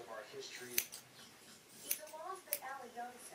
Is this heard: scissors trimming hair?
yes